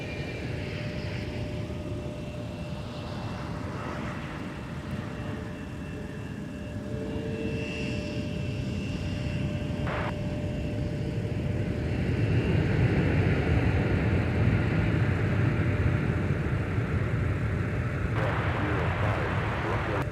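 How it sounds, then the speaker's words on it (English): A Delta 161 Heavy airliner arriving from Amsterdam Schiphol rumbles at Minneapolis–Saint Paul airport, a distant, faint jet roar that slowly swells louder over a steady background. "Here's Delta 161 from Amsterdam Schiphol."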